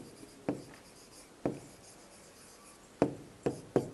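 Answer written by hand to a maths problem, a handful of sharp pen or chalk taps and short strokes spaced irregularly, close and fairly quiet, with no voice.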